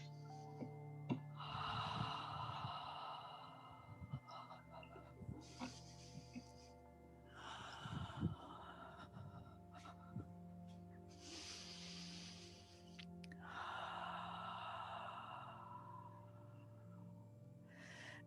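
Slow, soft breaths drawn in and out through the nose during a gentle yoga session, each long airy inhale and exhale rising and fading with quiet pauses between.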